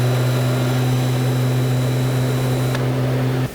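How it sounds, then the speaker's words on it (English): HTPG Econet evaporator fan on a refrigeration unit running as a steady loud close whirring drone with strong low tonal hum, a higher whine briefly shifting before the sound drops off abruptly near the end. "You can see the EXV will throttle up and the fan will turn on as well."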